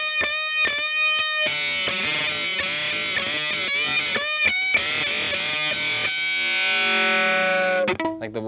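A Dandelion fuzzdrive guitar pedal gives a dirty, British 1970s-style distorted electric guitar tone with a slight whistle, heard as sustained overdriven chords and notes played close and loud.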